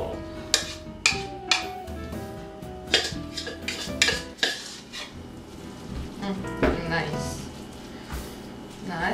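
A spoon or spatula levelling chicken broccoli casserole in a 9 by 13 baking dish, with repeated sharp scraping clinks against the dish at an uneven pace and soft wet mixing between them, close up and under talk.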